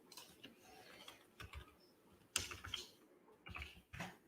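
Sparse, quiet keystrokes on a slow computer keyboard, a handful of soft taps spread irregularly over a few seconds with light background hiss.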